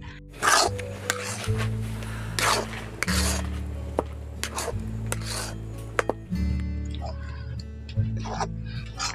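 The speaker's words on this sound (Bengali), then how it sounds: "এইভাবে করে ক্রমাগত কিন্তু পুরটাকে ভালো করে নাড়াচাড়া করতে হবে, নাহলে কিন্তু কড়ার মধ্যে লেগে যেতে পারে" Pitha filling is stirred continuously in a kadai, a wok-like pan, with repeated rasping scrapes of the spoon against the metal, heard over steady background music.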